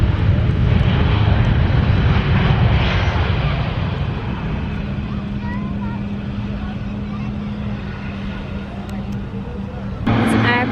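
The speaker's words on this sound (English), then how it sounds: "Airplane flying right above us" An airplane flies overhead at Manchester Airport, a loud broad roar that gradually fades over several seconds, leaving a lower steady engine drone and outdoor ambience.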